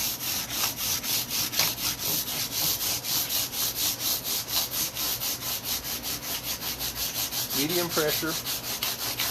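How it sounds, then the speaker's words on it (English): Steady rhythmic rubbing of guitar frets being polished to work out file marks, repeated back-and-forth strokes at an even pace, close and continuous; a voice speaks briefly near the end. "I'm going to go over the entire top surface and basically start working out the marks that the file left behind"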